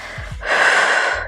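A single sharp exhale during a Pilates core exercise, a quick breathy rush of air through the mouth that follows two short intakes and stands alone, close and clear.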